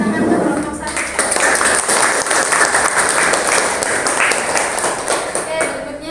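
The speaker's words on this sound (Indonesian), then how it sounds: "kasih tepuk tangan ke kelompok 1" Classroom applause for a student group after their presentation, a sustained burst of many hands clapping together, loud and near, fading slightly at the end with a voice briefly audible.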